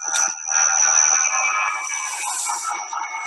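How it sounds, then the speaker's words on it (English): A low-flying jet airliner out of JFK passes overhead at a campground at Floyd Bennett Field, Gateway National Recreation Area, a loud sustained roar with a high whine running steadily throughout. "So that's an airplane from JFK flying what felt like about 10 feet over my campsite"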